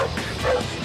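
A search and rescue dog barks once at close range, a short, sharp yip over a noisy background.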